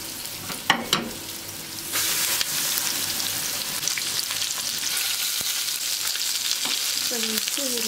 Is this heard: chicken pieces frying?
yes